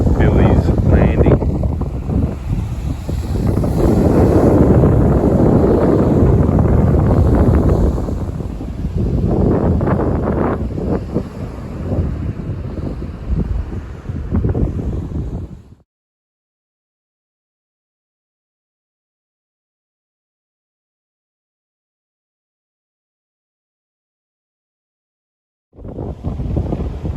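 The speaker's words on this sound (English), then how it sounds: "Typical breezy morning when you camp by the beach at Captain Billy's Landing." Strong breeze buffeting the microphone on a campsite beach at Captain Billy's Landing, a loud continuous roar of wind gusts for about fifteen seconds, then abrupt silence before the gusting resumes near the end.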